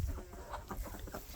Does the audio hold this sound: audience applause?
no